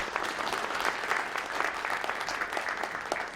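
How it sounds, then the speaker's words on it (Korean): Audience applause at a New Year prayer breakfast of a provincial Christian council, a fairly faint, even wash of many hands clapping from a hall crowd, continuous and without speech. "박수해 주시면 감사하겠습니다."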